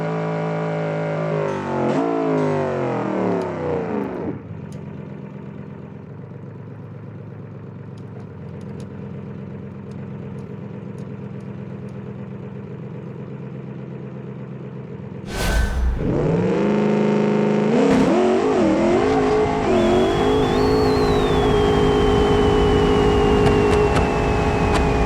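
Drag race car engine idling with a rough, lumpy rumble, then blipped with sharp revs that rise and fall loudly, close up and alone without talk.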